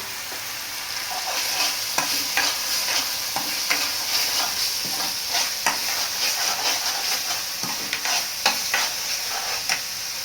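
Palak paneer masala with turmeric fries in a pan, a steady close sizzle punctuated by regular scraping taps of a spoon stirring.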